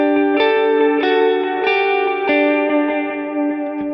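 Electric guitar played through a Vox AC30 preset on a Fractal Axe-FX, with stereo dual delay and plate reverb: picked notes land roughly every half second, each trailing rhythmic, patterned repeats into a steady wash, with no voices.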